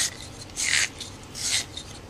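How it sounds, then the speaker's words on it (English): Two short raspy strokes of a 1/2 inch brush scrub a copper HVAC fitting, close and dry, with a brief quiet gap between them. "Now let's try the 1/2 inch brush on this."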